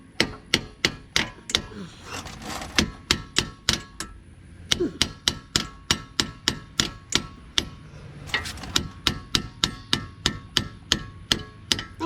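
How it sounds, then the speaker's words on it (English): Repeated hammer blows knocking loose the upper control arm on a Hummer H3, a long run of sharp metallic strikes in steady rhythm with brief pauses, close and loud. "So give her a whack."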